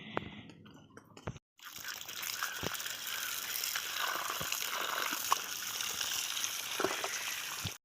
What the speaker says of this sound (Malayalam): ഇത് നമുക്കൊന്ന് കഴുകി എടുത്ത് നോക്കാം.